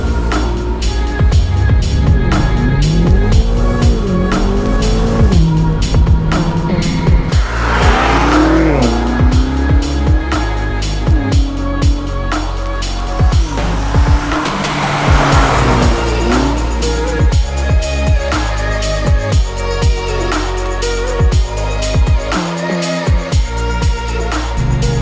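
A BMW M8 Competition on a road trip drives continuously with a loud engine drone that rises and falls through the gears, its tone sweeping up and down over steady road and wind noise.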